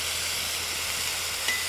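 Mushrooms and onions sizzle in a pan on an off-grid rocket stove, a loud, steady broadband hiss running throughout without pause or talk.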